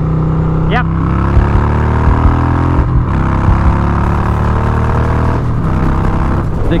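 A Harley-Davidson Twin Cam Softail motorcycle pulls hard under throttle, its loud V-twin drone rising in pitch through the run with wind rush, recorded up close while riding.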